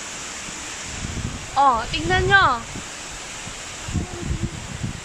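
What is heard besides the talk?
strong typhoon wind blowing through trees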